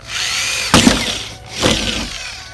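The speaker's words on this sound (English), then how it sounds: "And then we're going to start drilling." A power drill whirs steadily close by, revving harder in two surges with a grinding bite into material, no talking.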